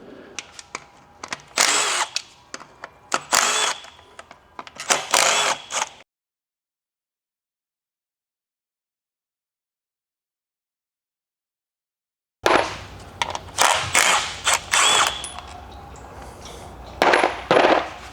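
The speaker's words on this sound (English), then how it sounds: "we'll go ahead and take off the transmission pan" Power tool and ratchet backing out the T40 pan bolts on an 8HP automatic transmission during a service, in repeated short bursts of whirring and clicking, a long silent gap midway, then more rapid bursts.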